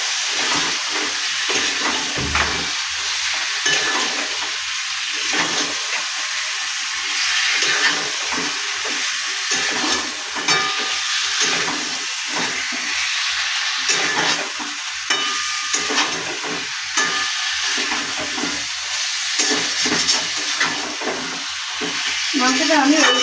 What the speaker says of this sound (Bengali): এই মাংসটাকে আমি কষাতে চাইলাম।